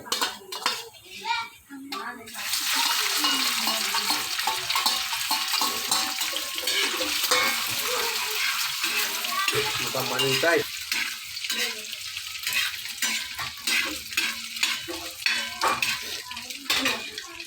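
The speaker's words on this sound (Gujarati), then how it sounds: "હવે લસણ શેકાયા બાદ એમાં નાખીશું તેલ। હવે નાખીશું આપણે એમાં ઈંડા।" Eggs fry in oil with garlic in a village kitchen, a dense crackling sizzle starting after a few seconds with clinks and scrapes of a pan and utensil, and a voice faintly in the background.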